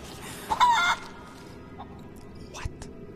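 Chickens in the video game Rise of the Tomb Raider give a loud, close squawk followed by a few fainter clucks and scattered clicks against a quiet ambient background.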